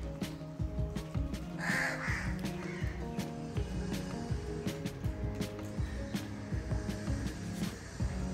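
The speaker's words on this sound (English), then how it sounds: "Birds, especially crows, they also join them for lunch." Several crows caw repeatedly near birds feeding at lunchtime beside a cat family, harsh overlapping calls close by over a steady background hum.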